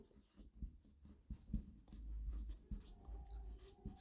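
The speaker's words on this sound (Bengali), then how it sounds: "তাহলে এখানে আমি যদি লিখি" Handwriting during a school biology lesson, heard as soft, faint, scratchy strokes and taps of a pen in a quiet room, with no talking over them.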